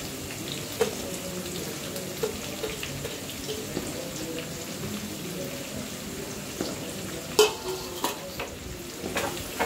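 Chopped onions fry in oil in a pan, a soft, continuous sizzle broken by occasional clinks and scrapes of a stirring spoon.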